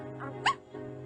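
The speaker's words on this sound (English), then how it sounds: "You're a very brave puppy." A cartoon puppy gives a short, high whimpering yip, a single bright squeal rising over a steady low background with faint voices around it.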